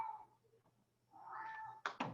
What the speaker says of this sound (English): Oh, and a kitty.